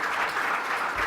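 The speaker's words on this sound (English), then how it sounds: "can we give them a round of applause for being here?" Audience applause at an apartment industry exhibitor workshop, a dense, steady wash of clapping from a room full of people, moderately loud and continuous throughout the brief moment with no talking over it.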